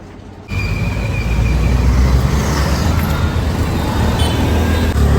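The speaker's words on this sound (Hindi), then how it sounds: "अभी जो है ना ट्रैफिक में फंस गए हैं। बुरा ट्रैफिक है।" Broadband rumble of congested road traffic in a jam, steady and loud after a brief quieter start, with engine drone and no talk.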